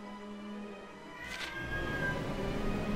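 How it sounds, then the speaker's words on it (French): A cat meows in the video game Gravity Rush 2, a short drawn-out cry rising over steady game music and ambience, followed by a low rumble as the background grows louder. "Ah, le chat."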